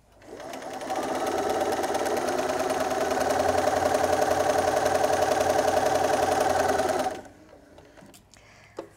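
A sewing machine runs steadily for about six seconds, stitching the final seam of a pineapple chunks quilt block, a close, even mechanical whir that stops abruptly, leaving quiet.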